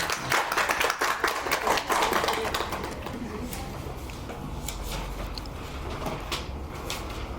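Audience applause at an open mic show for Women's Day, welcoming a poet to the stage, with a burst of dense clapping at first that thins into a steadier, quieter patter of claps and room noise.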